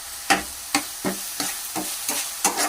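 Onions with ginger garlic paste stirred in a pan for onion samosa filling, about seven sharp scraping strokes in a steady rhythm over a light sizzle, close and clear with no talk.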